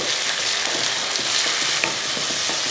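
Onions and tomatoes saute in a pan with a dense, even sizzle and faint stirring clicks, heard close and alone for a few seconds.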